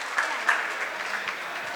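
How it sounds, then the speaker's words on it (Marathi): An audience at a women's gathering gives a steady round of clapping, moderately loud and continuous, with a couple of sharper bursts early on. "त्यांचं सगळ्यांचं एकदा टाळ्या वाजवून कौतुक करा"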